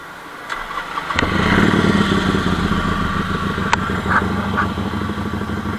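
A warm Royal Enfield Interceptor motorcycle starts up abruptly and settles into a steady, close, thumping idle that holds loud and even, with a couple of faint clicks on top.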